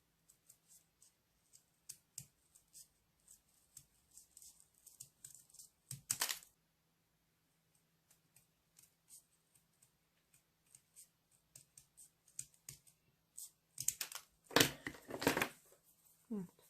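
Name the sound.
cutting paper for a pop-up card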